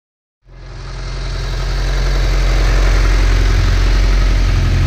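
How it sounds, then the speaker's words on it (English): A Honda S2000 with a new HKS exhaust fires up after near silence and settles into a loud, steady, deep idle with a strong low rumble, close to the microphone and with no voices. "S2000's up and running, back together for good."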